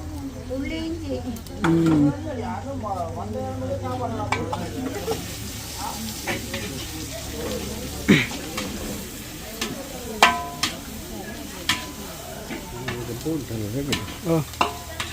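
Garlic sizzles steadily in a hot pan in a Jaffna home kitchen, with repeated scraping stirs and occasional clinks of the utensil against the pan, all close and loud while someone talks over the cooking.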